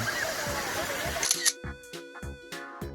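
Stream water rushing under a bridge in a valley along a park path, a steady broadband wash that fills the first half, then gives way to faint water under sharp, repeated camera shutter clicks.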